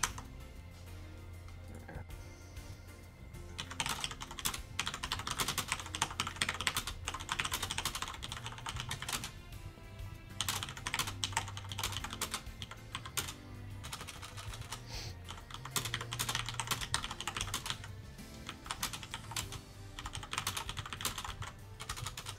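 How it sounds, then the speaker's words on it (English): Computer keyboard typing while composing a message in a Discord chat, steady close-up clatter of keys in bursts with short pauses, low background hum underneath and no talking. "I was typing a message"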